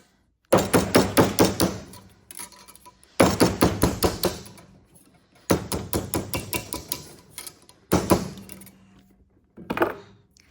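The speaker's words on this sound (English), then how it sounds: "So you really only want to hammer right on that wire." Metal hammering in five quick bursts of sharp, ringing taps, each a rapid series of strikes on wire against a metal stake or mandrel, close and loud with brief pauses between.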